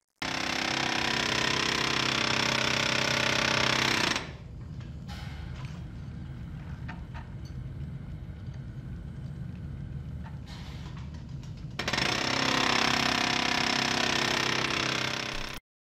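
Loud, rapid mechanical hammering of a file cutting machine striking steel, steady and continuous, dropping to a quieter hum midway before the pounding resumes.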